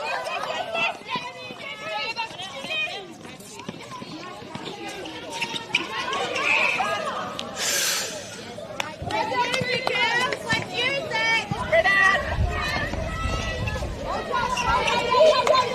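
Crowd at a netball grand final between Bencubbin and Koorda in the Central Wheatbelt, a dense hubbub of chatter and cheering filling the whole stretch, with rising excitement and a commentator talking over it.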